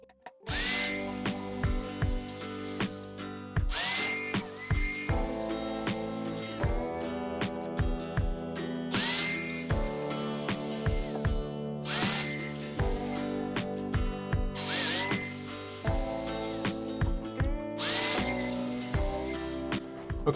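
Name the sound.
jigsaw cutting holes for fishing pole holder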